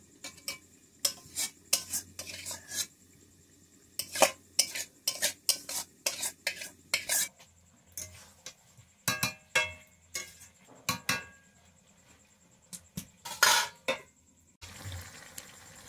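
A spoon scrapes and clatters around a pot of chicken curry being sautéed in Bengali home cooking, giving irregular bursts of metallic stirring with short pauses and a faint sizzle beneath, close and fairly loud.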